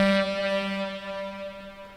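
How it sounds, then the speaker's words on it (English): A MacroFreak synthesizer preset holds a bright sustained tone that fades steadily over two seconds, giving a delay-like decaying tail, heard alone. "I recently made a preset on here that's sort of meant to simulate a delay."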